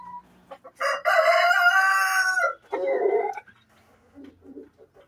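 A Dekalb Brown rooster on a small egg-laying poultry farm gives one loud, close crow, followed by a shorter second call and a few soft clucks, with no talk.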